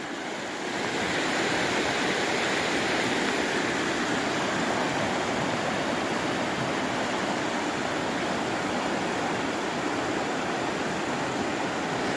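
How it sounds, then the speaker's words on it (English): Moshannon Creek in Pennsylvania, running past land left vacant by a closed coal mine, gives a steady, even rush of flowing water that holds at one level throughout with no voices. "here you can see the Moshannon Creek."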